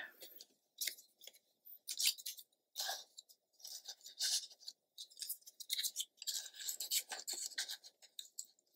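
Scissors snipping around a paper flower, a series of quiet, close, irregular cuts and crisp paper rustles, with no talking.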